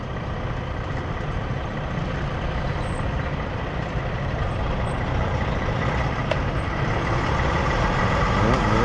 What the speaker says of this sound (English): here's one of the tankers coming out, little gas tanker or whatever it is